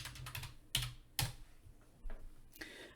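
A search is typed on a computer keyboard: quiet, close, irregular key clicks with a few sharper taps spaced out over a few seconds, and no talk.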